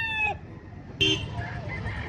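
A fighting rooster crows loud and close in a single burst, followed by a brief second call, with faint background noise around it.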